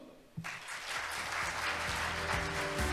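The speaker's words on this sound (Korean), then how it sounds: "다시 한번 뜨거운 박수 부탁드립니다" A seated audience applauds warmly at the opening ceremony of a business forum in Seoul, steady sustained clapping that swells after a brief quiet start and continues throughout.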